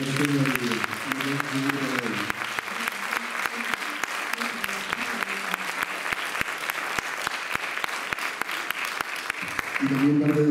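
A concert audience breaks into loud, sustained applause, dense clapping that carries on for about ten seconds, while someone speaks over it at the start and near the end.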